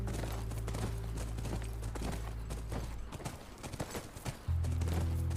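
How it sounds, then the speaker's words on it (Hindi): Horse hooves clip-clop steadily near a ranch in The Last of Us video game, a rhythmic clatter over a low droning game soundtrack, with no speech. "Look, by the ranch. That's our horse."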